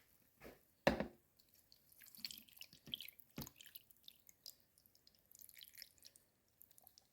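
Beef broth gravy pours and drips into a slow cooker holding a pot roast, faint scattered splashes and trickles with a couple of sharper drops, close with no talk.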